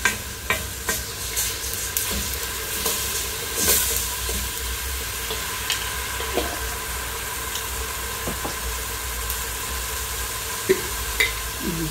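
Garlic sizzling in hot oil for a ceviche de patitas de pollo dressing: a steady close frying hiss with scattered small pops and clicks of stirring, no talking.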